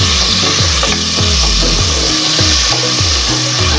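Onion and whole garam masala sizzling loudly in a pot, the tempering for lightly spiced white rice, a dense steady crackle with rhythmic stirring strokes repeating throughout, close and without speech.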